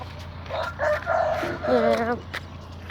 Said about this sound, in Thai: มันมีไก่ชนนะครับ